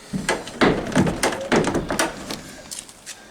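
Damaged side door of a Renault Master van sagging and shutting badly, making a run of clunks, thuds and rattling knocks close by, spread unevenly over a few seconds.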